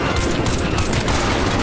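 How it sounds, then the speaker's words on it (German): Dense, continuous roar of rapid gunfire and blasts in Crysis 3, loud and steady throughout with no voices. "Ja, guck, da ist die Explosion."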